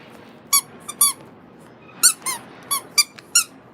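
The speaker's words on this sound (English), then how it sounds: "they all independently squeak" Several toys squeak one after another, about seven short bright squeaks in irregular bursts, each with a slightly different pitch, close by over a faint background hiss.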